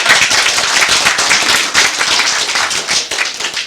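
An audience at a Democratic Party budget policy meeting for Gyeonggi Province claps. Many hands make a dense, loud patter that holds steady for nearly four seconds.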